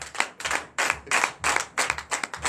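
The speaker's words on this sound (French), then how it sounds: "Donnez l'acclamation à Jésus." A church congregation claps together in rhythmic unison during a Sunday worship service in Benin, about eight loud, evenly spaced bursts of applause in a steady beat.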